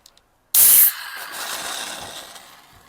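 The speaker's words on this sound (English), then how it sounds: "We should hear the widget kick in." A 440 ml can of Carling Premier Nitro beer is cracked open right at the mic, giving a sudden sharp hiss as the nitro widget releases, then a fizzing rush that slowly fades.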